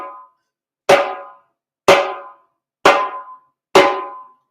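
High-pitched slap strokes on a hand drum, four sharp, evenly spaced hits, each ringing briefly before decaying to silence, close and loud with nothing else behind them.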